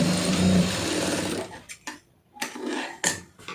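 A sewing machine stitches a hook placket on a blouse, running steadily at first and then in short stop-start bursts with brief pauses between them, close by with no talking.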